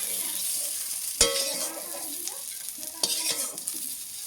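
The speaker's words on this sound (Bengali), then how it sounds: "এইভাবে আমি আলুগুলো ভেজে নেবো" Potatoes frying in a pan, a steady broadband sizzle punctuated by two sharp stirring scrapes and clatters, close and moderately loud, with no talking.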